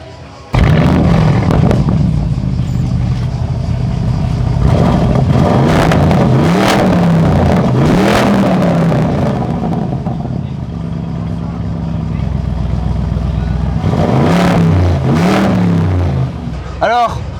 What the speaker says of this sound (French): ça reste le bruit grave du Lamborghini Urus, un peu amélioré et avec un kit complètement dément